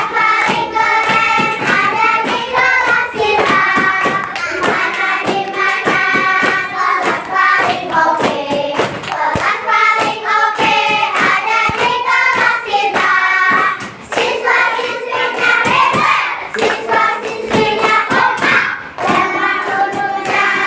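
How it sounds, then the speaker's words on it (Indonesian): A school class claps hands in steady rhythm while singing together, continuous loud group claps beneath the voices throughout. "mari kita menyanyikan bersama dengan tepukan semangat"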